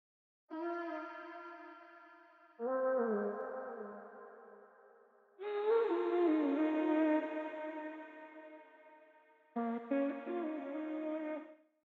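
A sung vocal sample in four sustained phrases, drenched in heavy reverb with long echoing tails and a processed, effected tone from saturation and equalizer plugins, for a dark R&B loop.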